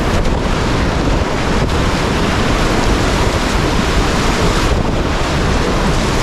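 Raft paddling on an outdoor river trip, a constant roar of rushing water and wind buffeting the microphone throughout, loud and steady with no distinct paddle strokes standing out.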